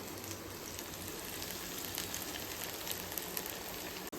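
Brown sundal vadai patties frying in hot oil give off a steady, fine crackling sizzle that stays even and moderately close throughout.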